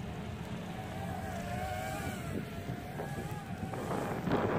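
Wind rushes across the microphone while a JJRC H345 drone flies outdoors in snow. A continuous low rumble and buffeting hiss run throughout, with a faint whine rising and falling underneath, and the gusts swell near the end.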